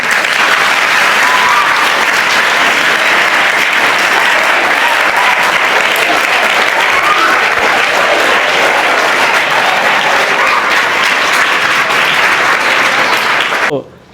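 Students at a Hyderabad school group applauding, loud, dense and sustained clapping from a large crowd that continues evenly before stopping abruptly at the end.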